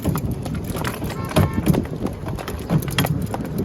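Hooves of a draft horse mare clop at a steady walking pace on a hard surface, nearby, with a voice talking over them.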